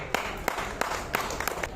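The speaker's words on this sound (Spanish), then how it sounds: "Fuerte los aplausos para ella, por favor." Audience applause for a book author at a book fair presentation in Lima, a sparse scattering of individual claps from a small crowd, fairly faint and brief.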